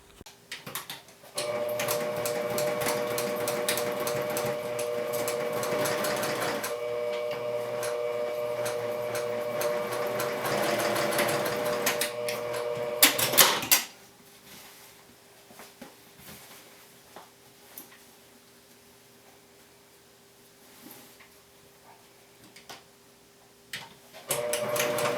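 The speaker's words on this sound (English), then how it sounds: "take this over to your sewing machine and sew each side with a 1/2 inch seam allowance" A sewing machine stitches a seam in a sewing tutorial, a steady, fast mechanical whir running continuously for about twelve seconds before stopping, followed by quiet handling noises.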